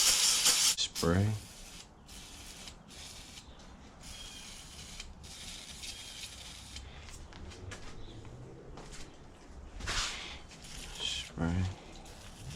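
Short bursts of spray hiss as aerosol is sprayed onto E46 suspension parts, several separate blasts with pauses between, under a voice talking nearby.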